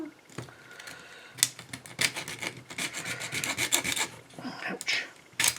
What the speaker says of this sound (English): We might be able to get this little tiny hacksaw in there.